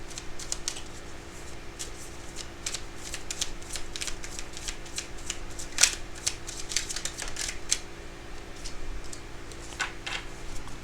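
Tarot cards shuffled by hand at close range, a continuous stream of rapid crisp riffles and flicks with irregular rhythm over a low background hum, no voices.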